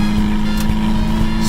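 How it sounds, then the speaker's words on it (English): A Toyota Starlet KP61 engine revs steadily toward redline with the window down, a close, loud, continuous drone with slight vibration and no talk. "Just the sound of the motor, it vibrates a little."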